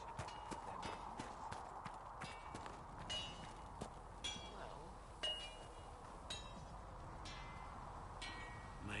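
Horse hooves clip-clop at a steady walking rhythm in the fantasy video game Dragon Age: Inquisition, moderately close over a low ambient bed, with a voice talking faintly at times.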